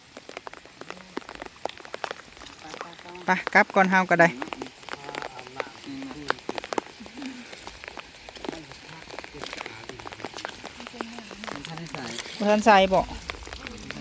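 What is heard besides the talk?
rain falling during a storm at a construction camp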